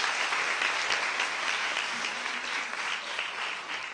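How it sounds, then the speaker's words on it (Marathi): Audience at a municipal welcome ceremony applauding, a dense steady wash of many hands clapping throughout, loud and sustained with no pause. "आपण सगळ्यांनी जोरदार टाळ्या वाजवून"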